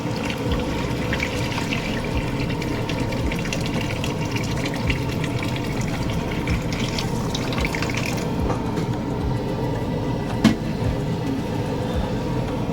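Tamarind juice pours steadily into a cooking pot for a Godavari-style pulusu, a continuous liquid rush with a brief knock near the end.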